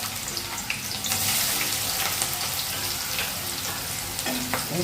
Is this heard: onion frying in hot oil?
yes